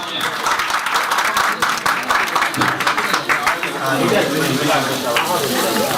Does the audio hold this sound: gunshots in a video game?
no